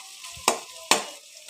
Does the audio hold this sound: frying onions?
yes